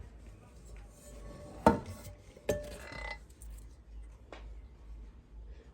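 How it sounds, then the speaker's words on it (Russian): A 3-4 litre saucepan and a frying pan are handled in a kitchen, giving two sharp metallic clanks and a few fainter knocks under quiet room noise. "Вот кастрюлька. Да, например. Далее, сковорода, Анжела."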